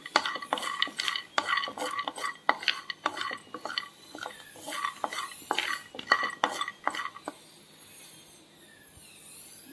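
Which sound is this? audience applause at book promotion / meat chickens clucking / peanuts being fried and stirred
peanuts being fried and stirred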